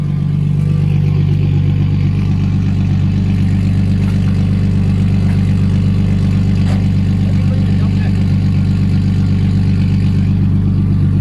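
A turbocharged Toyota Crown making around 1,500 horsepower rumbles loudly up close, its dense low engine drone holding steady, while people talk over it.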